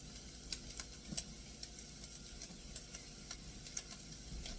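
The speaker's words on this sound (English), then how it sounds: "let me get this stirred up here a little bit." Rice for coconut rice simmers in a pot while a spoon stirs it, soft irregular taps and scrapes over a faint low bubbling; quiet and close, with no speech.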